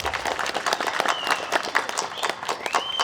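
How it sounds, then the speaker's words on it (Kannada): A crowd at a Kannada public event applauds together, a dense, continuous wash of clapping with scattered louder claps and a few whistles cutting through. "ಇದಕ್ಕೆ ನೀವು ಚಪ್ಪಾಳೆ ಹೊಡಿಬೇಕು"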